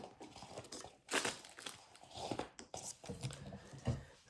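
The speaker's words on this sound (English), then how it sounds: "I'm going to cut my glitter rope in half." Glitter rope being cut in half for a DIY Christmas lantern craft: quiet, close crinkling and crunchy snips in short irregular bursts, with faint handling rustles between them and no speech.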